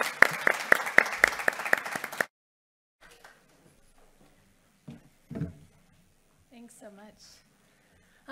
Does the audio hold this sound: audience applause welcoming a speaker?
yes